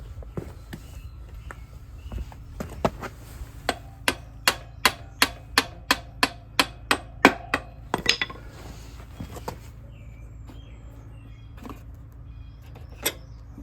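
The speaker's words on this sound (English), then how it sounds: "And I think I can just tap the axle out." A hammer taps out the axle of a 1978 Honda CB400 barn find: after a few scattered knocks, a steady run of about a dozen sharp, ringing metallic strikes, then a pause and one last tap, close and loud with no talk.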